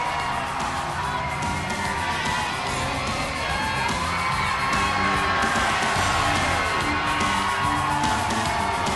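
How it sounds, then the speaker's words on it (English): A dense arena crowd roars and cheers steadily throughout as a wrestler, Mark D'Amato, rides in on a Harley motorcycle for his entrance, with whoops and shouts rising from the fans over a constant loud wash of noise. "Crowd reacts to D'Amato."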